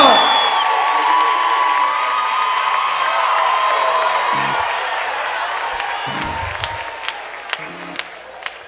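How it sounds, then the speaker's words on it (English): An audience claps and cheers for the award-winning North Carolina A&T Fellowship Gospel Choir at its 54th anniversary concert, a loud, sustained wash of applause with whoops. The applause slowly fades, leaving a few scattered claps near the end. "can you make some noise for the award-winning North Carolina A&T Fellowship Gospel Choir? Clap those hands as they come."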